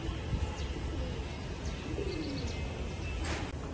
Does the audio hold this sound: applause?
no